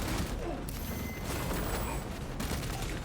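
Bolt Carbine firing in the action game Space Marine 2, a relentless, dense stream of heavy automatic shots close and loud, layered with clanking impacts and a brief mechanical shift midway, with faint talk beneath.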